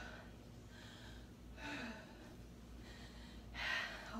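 Heavy, labored breathing after a kickboxing workout, with a few loud gasping exhales that rise and fall at a steady pace, close to the mic with no talk.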